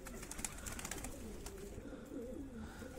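A pigeon coos on a rooftop, quiet repeated calls close by against light ambient noise, with no one speaking.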